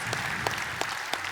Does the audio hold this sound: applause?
yes